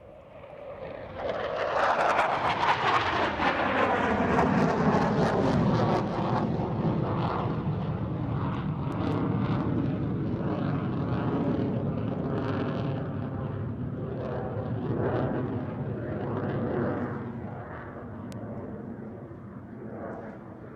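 A Saab Draken two-seat trainer jet flies at an RAF Waddington airshow, its engine roar surging loudly as it passes close, then lingering as a fading, rumbling tail with shifting tones.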